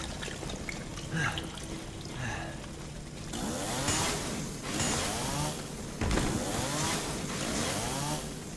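A chainsaw thrust attack on a kneeling enemy in the video game Resident Evil 7: a gritty, buzzing chainsaw roar that swells and surges in loud pulses, close and continuous, with no talking.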